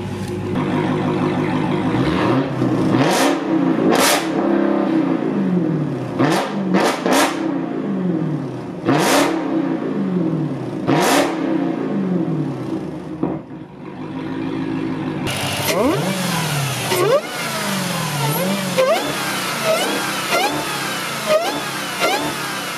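A Dodge Challenger Hellcat with its exhaust valves open revs hard and loud in repeated sharp blips, each rising and falling over a deep idle rumble, followed by a longer stretch of continuous revving.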